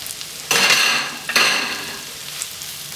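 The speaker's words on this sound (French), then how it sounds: "Donc là, on va les colorer." Onions added to melted butter in a pan, browning for caramelised burger onions: two bursts of loud hissing sizzle that swell and then ease into a steady fry.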